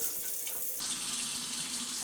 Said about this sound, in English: I'm going to go ahead and put some water in the canner.